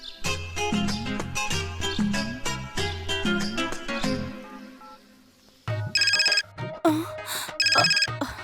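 Mobile phone ringtone from an incoming call in a Hindi-dubbed South Indian action film, a loud, repeating melodic tune that pauses briefly, then resumes in a brighter, higher chiming pattern.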